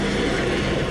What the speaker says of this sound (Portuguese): No ar, o helicóptero da Polícia Militar buscava por envolvidos.